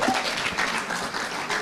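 A demo day audience for the ZUA cohort breaks into applause for a presenter, a brief, full wash of many hands clapping at once for under two seconds.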